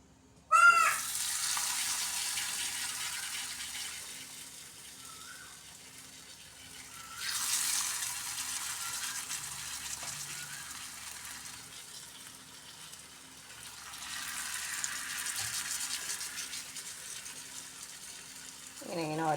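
Batter-dipped panikoorka (Indian borage) leaf bajji frying in hot oil, giving a soft steady sizzle that swells in waves as each leaf is added, with occasional faint clinks.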